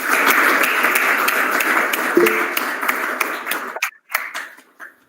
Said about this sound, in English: give the applause for everybody